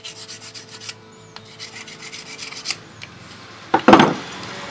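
A wooden slingshot dart shaft is scraped by hand, giving a steady raspy rubbing close up, with an intermittent faint tone and a louder, harsher burst of scraping near the end.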